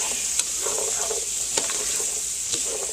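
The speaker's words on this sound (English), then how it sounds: "I want to turn the heat up and saute these for, 5 to 10 minutes" Diced carrots and other vegetables sautéing in butter in a soup pot give a steady close sizzle, with a few soft stirring clicks and scrapes rising above it.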